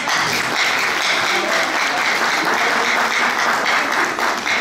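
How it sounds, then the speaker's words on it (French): A live audience at a children's quiz challenge in Paris applauds the team captains, with steady, dense clapping filling the hall at close range and holding evenly throughout. "Je vous demande déjà de les applaudir."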